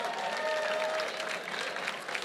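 Guests at a fundraising auction gala give a steady round of applause, a dense wash of clapping that holds evenly for a couple of seconds with a faint tone beneath it.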